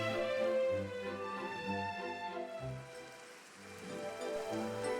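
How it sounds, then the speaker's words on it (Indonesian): Heavy rain falls in Minecraft as a steady hiss that runs throughout, mixed with sustained, tonal, music-like notes. "di luar rumah sedang terjadi hujan yang lebat"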